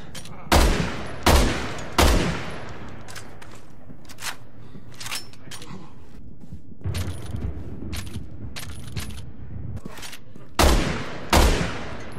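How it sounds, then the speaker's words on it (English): Semi-automatic sniper rifle firing in Resident Evil 6, loud sharp shots in an uneven series: three close together at the start, scattered quieter reports and mechanical clicks in the middle, then two more heavy shots near the end. "now for the next rifle, the semi-automatic sniper rifle"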